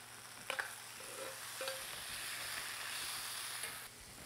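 Lamb chops placed back into a hot pan, a soft, steady sizzle with a couple of brief clunks near the start and later, fairly quiet and even.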